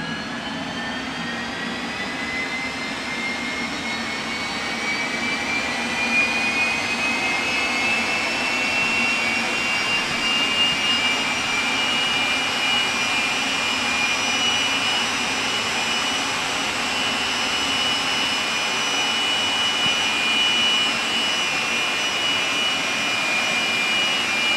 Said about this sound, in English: The jet lights up.